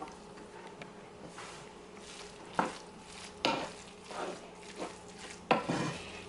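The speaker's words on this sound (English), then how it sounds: "I'm going to add the zest of a half a lemon, and I'm going to give that a big stir." A chicken dish with olives, tomatoes and lemon zest stirred in a sizzling pan, with a soft steady frying hiss and several scraping clinks of a utensil against the pan at irregular intervals.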